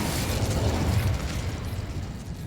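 The Incendio fire spell goes off in Hogwarts Legacy on Xbox Series S, a loud roaring whoosh of flame with a burst at the start that rumbles on for a couple of seconds.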